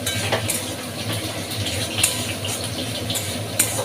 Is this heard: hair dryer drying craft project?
no